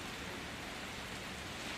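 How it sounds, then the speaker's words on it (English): Rain pours steadily against a window pane on an English summer evening, heard from indoors as an even, unbroken hiss with no separate drops standing out. "First a whisper, then a steady pour against the glass."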